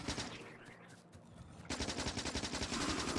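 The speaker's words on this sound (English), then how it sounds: "Let's see if we can get in there with the shotgun." Rapid bursts of gunfire from a shotgun in the video game Factorio, a fast repeating volley that grows louder and denser halfway through, with a quieter rumble before.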